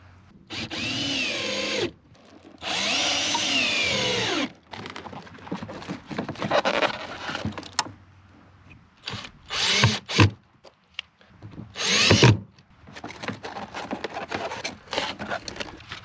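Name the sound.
power drill driving 3-inch deck screws into bracket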